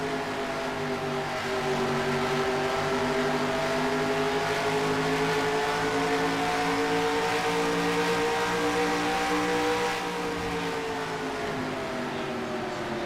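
Race cars in the NASCAR Racing 2003 video game run at Pocono down the back straight toward the tunnel turn, a continuous loud engine drone with layered rising pitch from several cars.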